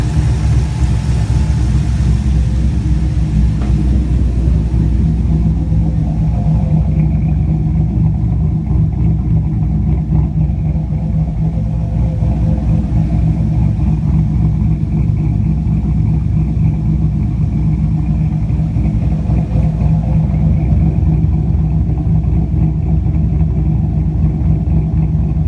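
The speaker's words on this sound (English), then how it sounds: "Motor sounds good." A 5.3L V8 with a stage 4 cam, swapped into a 2004 Chevrolet Colorado, idles loud and close with a steady, lopey rumble throughout, no voices over it.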